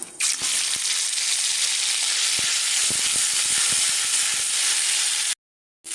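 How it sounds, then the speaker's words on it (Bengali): Dry chilli, cumin and chilli paste hit hot oil in a pan for a Bengali mango and snakehead fish curry, a loud, dense, close sizzle that fills the clip with a few faint clicks and cuts off near the end. "গরম হয়েছে তেলটা, এবার এর মধ্যে দিয়ে দেব জিরে লঙ্কা বাটাটা।"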